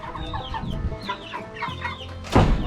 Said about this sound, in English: These Tyson chickens, guys, these white heavies or whatever they're called